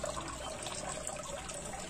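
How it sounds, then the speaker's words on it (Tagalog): Water trickles steadily through a homemade fish tub setup (a reftub for swordtails, platies and guppies), a continuous close splashing flow that stays even throughout with no talking. "ito yung tubig. Punta yung tubig dyan hanggang dito, tapos babalik dito"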